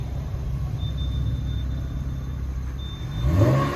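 A 2012 Chevrolet Camaro's engine idles with a low steady rumble, then swells into a louder revving surge near the end as it pulls away on a drive.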